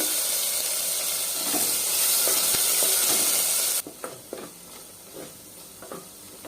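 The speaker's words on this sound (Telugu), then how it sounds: "అల్లం వెల్లుల్లి పేస్ట్ బాగా వేగిందండి." Ginger garlic paste sizzles and hisses in a hot pan over medium flame, loud at first, then the hiss drops away leaving softer crackles and occasional stirring scrapes.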